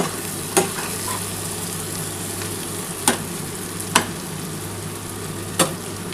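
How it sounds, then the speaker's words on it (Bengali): Masala sautéed in a frying pan for a Bengali bhola fish curry with potatoes, onion, tomato and coriander sizzles steadily as spice-water goes in, with a few sharp spatula clinks scattered over the constant frying hiss. "এবার কিন্তু আমি মশলার যে জলটা আছে সেই জলটুকুই দেবো"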